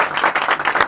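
Clapping at a football match between former Dogues players and Calais 2000 heroes, a quick run of a few fairly loud claps from one or a few people, close by and with no talking.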